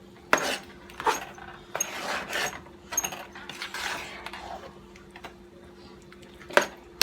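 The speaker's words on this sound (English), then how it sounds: "I'm going to put the lid on and let this finish cooking down." A metal lid set onto a cooking pot of chicken and rice with margarine: a few light clinks and rattles over soft kitchen clatter, close and fairly quiet, no talk.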